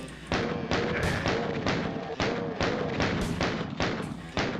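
Punchy retro effects from the DOS game Doom: repeated thudding blasts and impacts in a steady, loud stream, with sharp bursts recurring every second or so.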